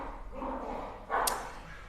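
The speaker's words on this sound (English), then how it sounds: "because as you can hear, my dogs are quite loud" Dogs barking inside a house, a short burst of loud, close barks standing out against a quiet indoor background.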